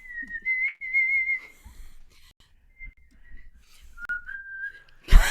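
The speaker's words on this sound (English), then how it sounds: "I'm gonna keep on whistling" A person whistles a tune in short sustained phrases separated by pauses, close and clear, with faint handling noise and a sharp clatter at the end.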